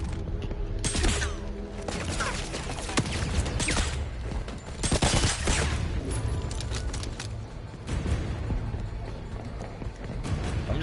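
Rapid gunfire in the 007 First Light game, dense bursts of shots and booming impacts layered over action noise, loud and nearly continuous with short lulls between volleys.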